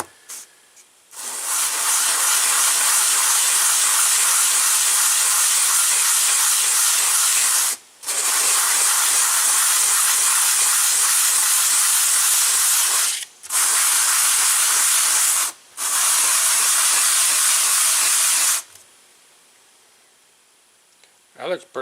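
Sanding a 1999 Yamaha YZ125 cylinder head on sandpaper laid on a flat surface: a loud, steady abrasive scraping hiss running in long back-and-forth stretches with three short pauses, then stopping.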